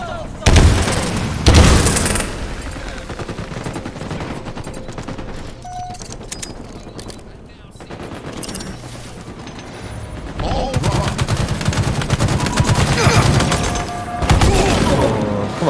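Grenade blast and gunfire from the Halo Infinite video game: loud broadband bursts early and again in a long dense stretch of shooting near the end, with game announcer speech in between.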